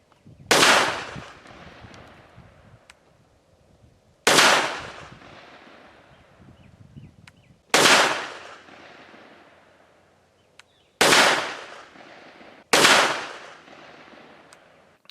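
Five loud, sharp pistol shots from a Walther WMP .22 Magnum, spaced about three seconds apart, each with a crisp crack and a short ringing decay, with no talking.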